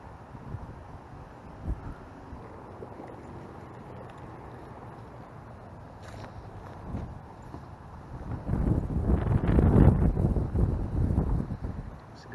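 Gusty wind buffets the microphone on a windy fall day of bass fishing, a low rumbling roar that swells into a strong, sustained gust toward the end.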